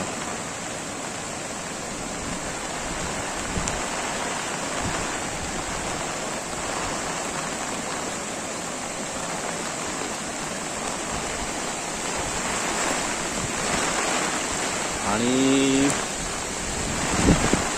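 Swollen, fast-flowing river water rushes past a bridge at Furus village near Dapoli–Khed during heavy monsoon rain, a constant loud broadband roar with wind buffeting. Someone speaks briefly over it.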